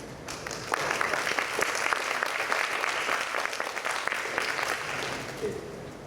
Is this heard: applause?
yes